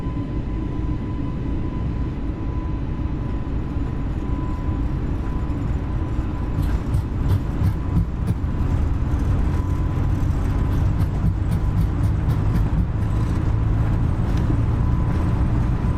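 Airbus A320neo jet engines spool up to takeoff thrust in a flight simulator, producing a steady loud roar that builds gradually alongside rumbling runway noise and rattling as the aircraft accelerates, with no talking.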